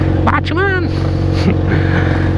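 A motorcycle engine idles with a steady low drone throughout, while a voice briefly shouts over it.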